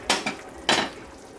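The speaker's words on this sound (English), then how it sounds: "So I'm going to put my potatoes in." Chunks of russet potato drop into a beef stew pot, making three soft clattering thumps against the pot at close range, with quiet room tone between them.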